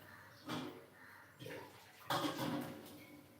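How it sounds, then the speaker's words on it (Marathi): Water from a glass splashes into a pot of buttermilk kadhi in a few quiet, separate pours with short gaps between them. "एक ग्लास पाणी घालून घ्यायचं"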